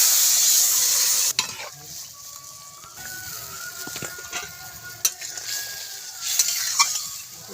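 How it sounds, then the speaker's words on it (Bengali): Crab frying and being stirred into spices in a pan on a Bengali home stove, with a steady soft sizzle and intermittent scraping stir clicks at moderate, close distance. "দিয়ে দেবো কিছু কাঁকড়া আর একটু কষিয়ে নেব"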